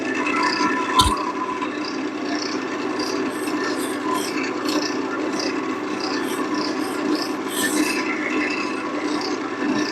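Very fine 12,000 grit sandpaper rubs steadily, giving a continuous soft rasping hiss throughout with only slight variation.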